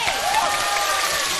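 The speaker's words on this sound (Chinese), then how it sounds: "掌声送给他们。" An audience at a televised stage show in northeast China claps for performers introduced to do a comedy skit, a brief, dense burst of applause mixed with a tonal musical or voice sound.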